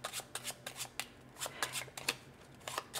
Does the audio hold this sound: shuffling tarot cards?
yes